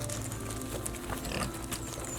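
Pigs and baby pigs grunting on a homestead, a steady low jumble of snorts and squeals close by with a mother sow nearby, busy farmyard noise throughout with no talk.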